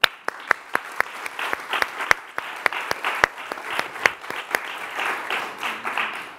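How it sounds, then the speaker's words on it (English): Audience applause at an awards ceremony, a steady wash of many hands clapping with a few sharp, close claps standing out, loud and continuous throughout with no talking. "You should clap for yourself"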